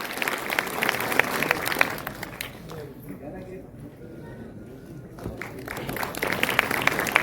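Applause rises at a political felicitation ceremony, with a crowd clapping loudly, easing off in the middle and swelling again toward the end while a voice speaks over the PA.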